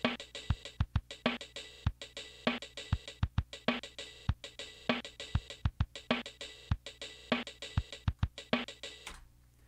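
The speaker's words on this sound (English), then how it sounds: "you can kind of try and tackle the full groove, and then that sounds like this." A full drum kit plays a groove, a steady pattern of sharp hits with a constant cymbal wash, fairly quiet and with no voices.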